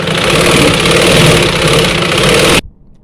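Close, loud and continuous, a sewing machine motor whirs while stitching lining onto the back piece of saree fabric being made into an anarkali, then stops abruptly near the end.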